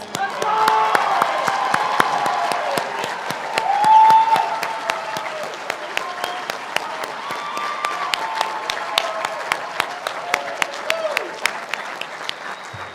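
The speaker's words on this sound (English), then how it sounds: "let's give our graduates one more round of applause" A commencement ceremony audience gives the graduates a long round of applause, sustained crowd clapping with scattered cheers and whoops, some sharp individual claps standing out near the microphone.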